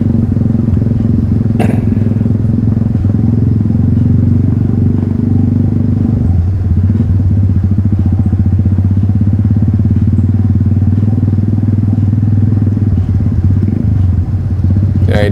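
A 1974 Triumph Bonneville T140V 750cc kick-start motorcycle engine runs steadily and loudly up close, a deep continuous throb whose pitch shifts partway through before settling into an even idle.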